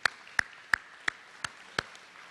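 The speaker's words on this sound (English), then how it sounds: "I think we want to give everybody a round of applause for the great progress and growth we've had in this community." Six sharp, evenly spaced claps ring out at a business hall of fame induction event, sounding like one or a few people clapping slowly in a quiet room rather than a full crowd.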